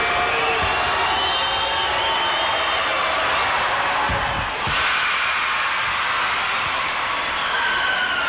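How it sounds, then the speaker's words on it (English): A packed high school basketball gym at the 1986 Section V Class AAA boys championship, Aquinas vs. Franklin, with the Franklin crowd roaring in a loud, continuous wall of cheering and whooping that barely dips for the whole stretch. "The noise near deafening right behind us as the Franklin crowd is ready to party on Norton Street tonight."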